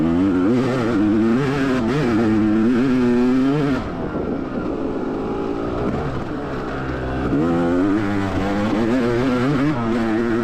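Enduro motorcycle ridden hard on a sprint enduro loop, engine loud and close throughout, revving up and down with rising and falling pitch as the rider shifts and accelerates through rough terrain, with no talking.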